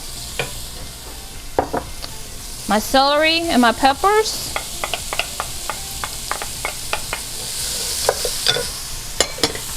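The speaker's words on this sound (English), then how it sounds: "So I'm adding my onion. Listen to that sizzle." Onion, celery and peppers sizzle and crackle in a hot pan with toasted paprika, a steady frying hiss with stirring scrapes, while someone speaks briefly over it.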